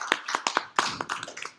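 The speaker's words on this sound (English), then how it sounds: "Can we get clap of praying for the Lord?" A small church congregation claps a few sharp, scattered handclaps at an uneven rhythm, fairly close and distinct.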